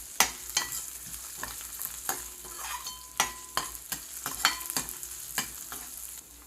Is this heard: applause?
no